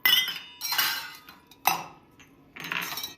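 Kitchen utensils clink and clatter while tea is being made, with three or four bright metallic bursts of vessels knocking together nearby, separated by short quiet gaps.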